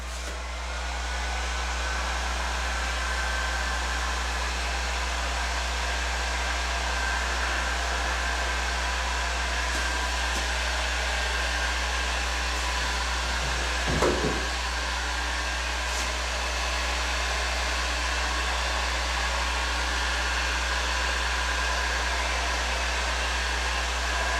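A Harbor Freight heat gun turned up to setting 7 blows a steady, loud rushing whoosh that never lets up, with one faint knock partway through and no voices.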